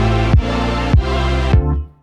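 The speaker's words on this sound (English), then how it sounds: "And this kick sample really just adds a little more impact and energy when this fill is played" A drum fill layered with an extra kick sample punches out three heavy low thumps in quick succession over a dense, bright sustained musical bed, ending in a short fading tail.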